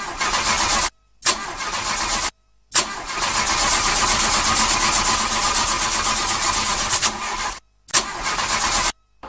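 A car engine cranks and sputters, turning over repeatedly and failing to catch, with loud continuous cranking broken by brief silent gaps between attempts.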